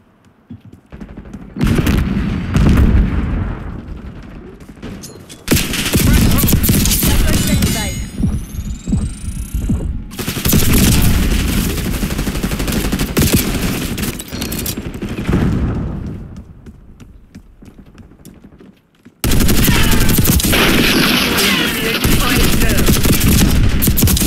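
Sustained automatic gunfire in the video game Call of Duty: Black Ops 6, loud and dense bursts separated by a few brief quiet gaps.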